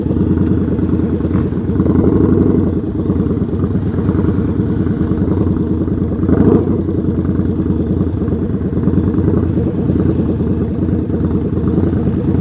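Motorcycle riding at slow speed during an advanced low-speed skills practice session in New Jersey, a steady loud mid-pitched engine drone with some clatter, close by and continuous, with no talking.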